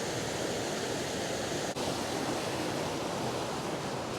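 A steady broadband roar of waterfalls, the forces on the Lake District fells in winter, rushing continuously and close without pause or voices.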